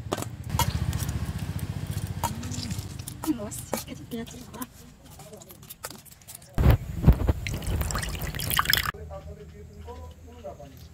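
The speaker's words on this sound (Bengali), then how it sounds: "আমি এবার লেবুর জুস বের করে নেবো।" Sweet lemons squeezed for juice, giving wet dripping and trickling sounds, close and uneven, with a louder splashy burst partway through.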